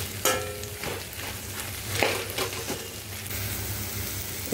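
Turai, potatoes and posto being stirred in a pan, a steady sizzle with scraping spoon strokes and light clinks, close and moderately loud with no talking.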